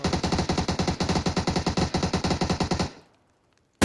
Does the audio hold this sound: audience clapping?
no